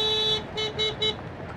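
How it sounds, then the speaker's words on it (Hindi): A PURE EV eTryst 350 electric motorbike's horn sounds close and shrill: one long steady beep, then three quick short toots. "हॉर्न इसका कुछ इस तरीके से है"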